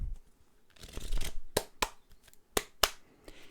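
Angel oracle cards shuffled by hand for a card draw: soft riffling rustle with several sharp slaps as the deck is squared, close and fairly quiet, with no talking.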